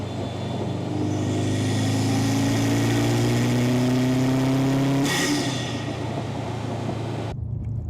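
A modified-intake Subaru STI engine revs up steadily for about five seconds, its pitch climbing to a loud high-rpm peak, then drops off and settles back before cutting out, heard close from a mic in the engine bay.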